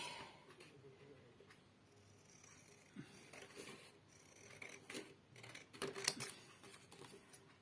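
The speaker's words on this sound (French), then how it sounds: "Donc, je vais découper" Scissors snip and rustle through card while an autumn greeting card is cut, with quiet, irregular cuts and paper handling that grow slightly louder and busier toward the end.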